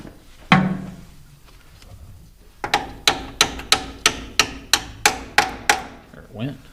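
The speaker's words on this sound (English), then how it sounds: "See if I can tap it with my hammer." A hammer taps on a chipper alternator to work it loose: one loud strike, then a rapid, even run of about a dozen close metallic knocks.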